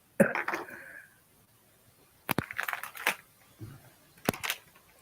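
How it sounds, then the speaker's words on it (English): A few short, sharp coughs close to the microphone, spaced apart with brief quiet gaps between them. "That made me cough."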